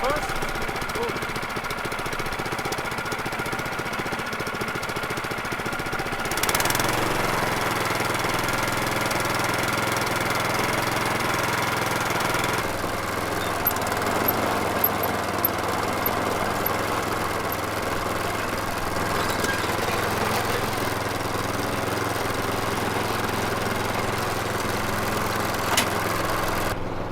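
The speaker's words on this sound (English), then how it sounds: "The engine is running really well, I must say." A cheap second-hand snowblower engine runs at a steady, throaty idle close by, with a sudden surge in loudness partway through and then a deeper, settled running note, and no talk over it.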